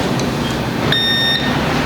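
A multimeter's continuity buzzer beeps briefly at a steady high pitch while a phone circuit board is probed, standing over a constant background hiss, with no talking.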